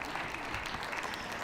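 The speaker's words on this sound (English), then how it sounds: "Yeah, you can clap" An audience at a math quiz show claps after a correct answer, a brief burst of dense, even applause from many people, heard alone without talking.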